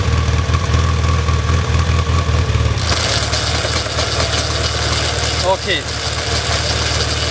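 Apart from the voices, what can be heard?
motorcycle engine running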